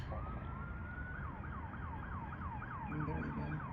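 An ambulance siren on a Los Angeles street yelps in rapid repeated sweeps, moderately distant over steady traffic rumble and growing slightly nearer toward the end.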